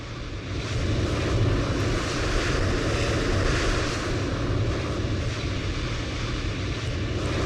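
Airliner engines in a Microsoft Flight Simulator 2020 session at Toulouse, where Airbus A350s dominate: a steady, loud, broadband roar and rumble that holds evenly throughout, with no talking.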